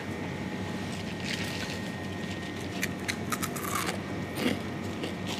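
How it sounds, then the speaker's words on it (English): Someone bites into crunchy, light brown twig-like snacks made from food waste, producing a few crisp crunches over a steady background noise. "Oh, it's so good, crunchy. Yeah, good crunch."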